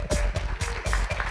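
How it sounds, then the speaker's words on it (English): A brief, close burst of hand claps at a tech conference talk, several distinct sharp claps in quick succession. "I think I deserve a round of applause."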